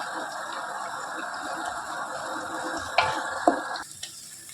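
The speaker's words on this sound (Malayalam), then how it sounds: "അതുവരെ നമ്മൾ ഉള്ളി വഴറ്റിക്കൊണ്ടേയിരിക്കണം" Sliced onions sauté in a pan for Palakkad-style beef leg biryani, sizzling steadily at close range, with a few sharp spoon clicks near the end as the sizzle cuts off.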